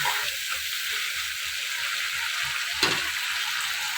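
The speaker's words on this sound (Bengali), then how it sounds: "মাছের তেলটা দিয়ে ভালো করে দেখো কষিয়ে নিচ্ছি" Onion, garlic, ginger and spices frying in fish oil in a home kitchen pan, a steady close sizzle and hiss with one brief louder stir or clatter near the end, no voices.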